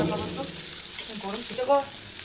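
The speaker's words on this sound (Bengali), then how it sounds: "পেঁয়াজটাকে আমি হালকা হাতে একটু ভেজে নেব।" Chopped large onion sizzles lightly in a pan, a short, faint frying hiss with soft crackles.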